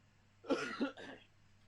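Someone coughs once, a short throaty burst with a clearing sound, close and moderately loud against a quiet room.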